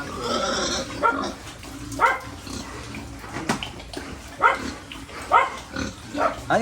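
Pigs on a farm in San Rafael, Bulacan grunt and squeal in bursts, several close-up calls spaced irregularly, with water running and splashing in the background.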